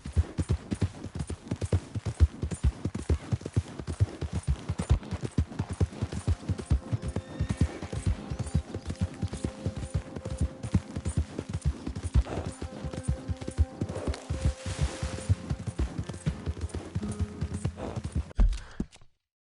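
Horse hooves clip-clop steadily in a PS4 video game, a rapid rhythmic run of close, fairly loud hoofbeats over a low hum, lasting until an abrupt stop near the end.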